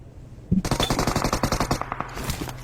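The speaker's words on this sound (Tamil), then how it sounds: "ஷார்ப் கையில ஷார்ட் கன் கிடைச்சிச்சு" Rapid burst of video game shotgun fire, a dense string of sharp close shots in quick rhythm lasting about two seconds, loud and without talk.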